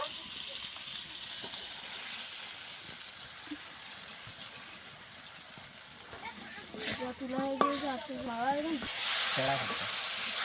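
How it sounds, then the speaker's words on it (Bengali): Fish coated with turmeric powder sizzles in a pan with a continuous broadband frying hiss, and a person talks over it toward the end. "মাছটা আমি কিছুক্ষণ ভেজে নিয়েছি হলুদ গুঁড়ো দিয়ে দেব"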